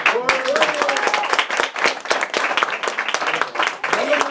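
At a hypnosis stage show, a small audience claps for a volunteer, producing distinct irregular claps with voices and laughter talking over them.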